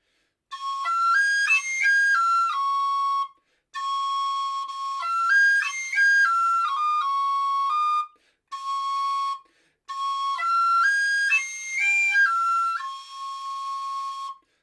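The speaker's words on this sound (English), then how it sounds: "So I get a C natural very nicely cross-fingered on this whistle like that." A tin whistle plays a quick finger-exercise arpeggio that includes a cross-fingered C natural. Bright, clear notes run in rapid phrases with short breaks between them, and no one speaks.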